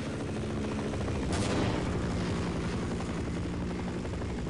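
A helicopter in the Half-Life video game holds a steady rotor roar and thrum at moderate distance, with a brief burst of gunfire near the middle and no talk.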